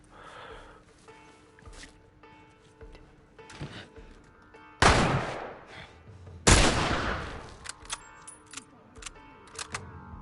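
Enemy gunfire in The Last of Us comes as two loud, close shots that cut sharply through a quieter game backdrop, with smaller clicks and thuds following.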